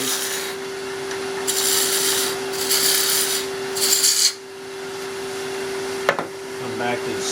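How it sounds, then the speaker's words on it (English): A spindle roughing gouge takes peeling cuts on a wood lathe while turning an angel ornament, giving three loud bursts of rough shaving noise over a steady motor hum, then a sharp knock and quieter machine running. "We're going to use a spindle rough and gouge to just peeling cut, just removing some of this waste."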